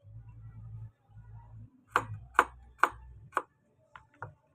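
Knife chopping fresh peeled garlic cloves on a board, six crisp, fairly close cuts in an uneven rhythm over a low steady hum, with no talking.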